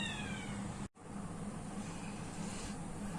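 A cat meows in a classroom during a maths lesson, a short, fairly faint call near the start that sits over a steady background hum, which briefly cuts out.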